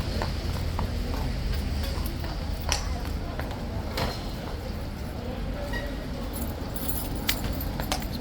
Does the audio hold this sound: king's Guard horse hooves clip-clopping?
yes